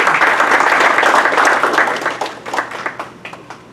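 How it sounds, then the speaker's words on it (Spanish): Loud audience applause at a conference on asphalt milling practices greets an engineer walking on, a dense burst of clapping that thins into separate claps and fades toward the end. "lo recibimos con un fuerte aplauso"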